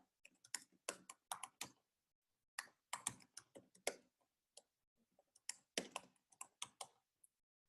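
Quick clicks on a computer keyboard as an email address is typed, in short irregular bursts broken by pauses, close and clear in an otherwise quiet room.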